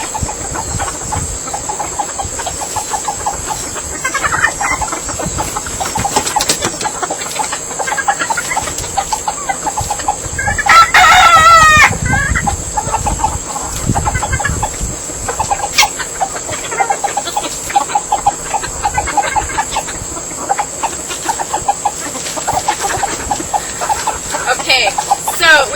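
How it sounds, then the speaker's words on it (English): Chickens cluck and a rooster crows in a busy yard, steady and fairly loud throughout, with people talking and calling out over the birds. "then a chicken I named after an eagle in Finnish"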